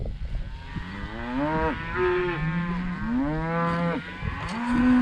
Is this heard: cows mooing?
yes